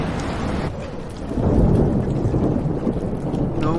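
A thunderstorm in the video game Life is Strange, with steady heavy rain and deep rolling thunder that swells midway, continuous and loud throughout.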